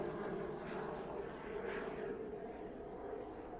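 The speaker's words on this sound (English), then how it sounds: "And you can hear the pilots training on the airplanes." Training airplanes drone overhead near an Air Force base, a continuous broad engine roar that swells and eases slightly as they pass, loud and steady with no talk.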